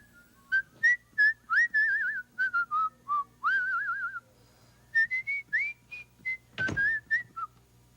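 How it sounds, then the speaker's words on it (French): A father whistles a lively tune in a living room, a string of bright warbling phrases with short pauses between them, close and clear with no talking. "Il siffle."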